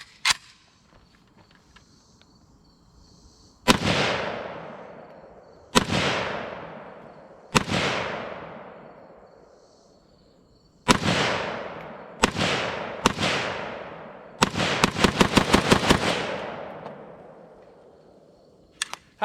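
Gunfire from a Cugir WASR-10 Romanian AK paratrooper carbine: loud single shots spaced a few seconds apart, each ringing out with a long echoing decay, then a quick cluster of rapid shots near the end, outdoors and with no talk.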